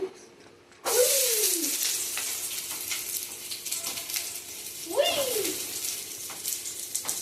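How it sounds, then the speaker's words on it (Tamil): Onions tipped into a hot pan hiss into a loud, steady sizzle that starts abruptly and holds close throughout, with a voice briefly speaking over it. "நம்ம ஆனியனை உள்ள கொடுத்துக்கோம்."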